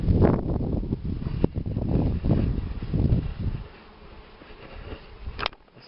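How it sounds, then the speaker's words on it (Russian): Honey bees buzz densely around a hive as a colony is moved from the hive into a trap, a loud continuous swarming drone with wind gusts against the microphone, easing slightly near the end. "И на ледку уже много сидит пчел."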